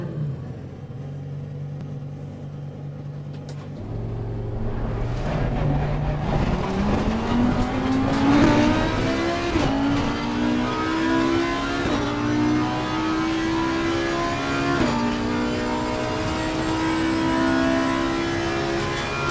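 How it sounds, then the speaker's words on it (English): Audi GT3 race car in Assetto Corsa Competizione roaring loudly, engine pitch climbing through the gears with a few tire squeals, sustained and close, no talking. "Gotta love the sound of this Audi."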